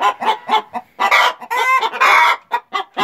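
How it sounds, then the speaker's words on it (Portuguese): Embrapa 051 hens cluck and cackle loudly inside a henhouse in a lively, uneven chorus of short bursts and longer excited calls, close by with no talk. "a festa aqui no galinheiro que as galinhas fazem."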